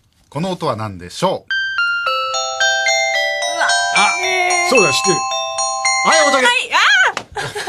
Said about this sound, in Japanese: お風呂が沸きましたのチャイム